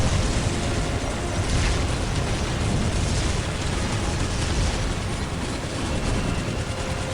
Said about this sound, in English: a lot of bullets flying everywhere